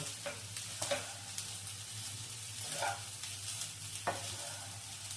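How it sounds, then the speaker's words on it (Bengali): Rice being stirred into a hot tempering in a pan for lemon rice, with soft scraping strokes over a faint sizzle, a few spoon knocks on the pan, steady and close, no talking. "ভাতটা খুব ভালোভাবে ফোড়নের সাথে মিশিয়ে নিতে হবে।"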